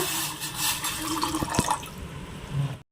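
Water running into a pot set on a stove, filled for a double-boiler setup when making homemade soap; a steady splashing stream lasts the whole stretch with a few sharp clinks, close and moderately loud.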